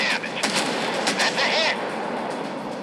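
Heavy cannon and gunfire from warships in a naval battle video game boom in rapid bursts, loud and close, with a rumbling tail as the barrage eases off.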